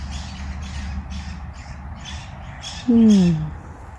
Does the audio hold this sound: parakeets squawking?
yes